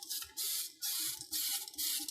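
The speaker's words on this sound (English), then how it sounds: "you just spray on a clear gloss and they'll fill in the small little cracks" Clear gloss sprayed from a can over a sanded surface to fill small cracks and scratches, heard as three close, loud bursts of hissing spray with short gaps between them.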